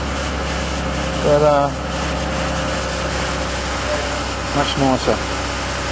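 A Dodge Nitro engine idles with a steady low hum throughout, while someone speaks briefly over it.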